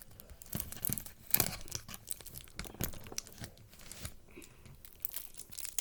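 Tape is peeled and ripped off toy figures inside a toy box, giving a run of close, sharp tearing and crinkling bursts with brief pauses between pulls.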